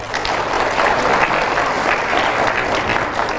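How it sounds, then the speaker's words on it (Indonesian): Audience at an Islamic lecture gives dense, continuous applause, many people clapping together at an even level from start to finish. "Mana tepuk tangannya?"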